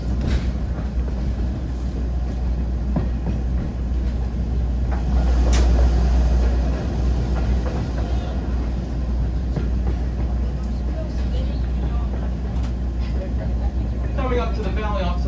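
Steady low rumble of a passenger train rolling along the rails on the Strasburg railway, continuous and heavy, with occasional clanks and a faint voice speaking over it.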